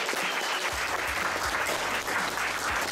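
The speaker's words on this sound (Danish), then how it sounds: "Så skal I klappe nu." An audience in a concert venue claps loudly, dense and sustained applause filling the space throughout with no individual voices standing out.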